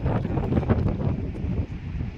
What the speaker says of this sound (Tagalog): Mahangin nga lang ngayon.